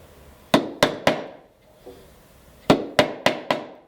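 A wood chisel is struck into wood with sharp, close blows: three quick hits, a soft scrape, then four more evenly spaced strikes, each ringing briefly in a quiet room.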